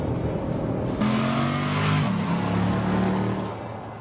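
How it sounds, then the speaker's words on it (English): A Jeep SRT8 lapping the Willow Springs raceway, its engine droning loudly and steadily from inside the cabin with a rising and falling pitch as it accelerates, then easing off at the end, no talking. "That's a lap of Willow Springs in the Jeep SRT8."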